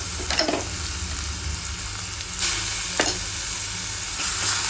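Green chili, coriander, curry leaf, garlic and ginger paste sizzles steadily in a hot pan of mustard-seed and asafoetida tempering, a close, continuous fry with a few sharper spits and crackles.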